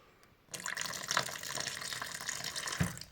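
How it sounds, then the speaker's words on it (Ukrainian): Filtered reverse-osmosis water pours steadily into a container of grapevine cuttings close by, a continuous splashing gurgle that starts abruptly and runs without a break, with a soft knock near the end. "Так, ну що, будемо підливати."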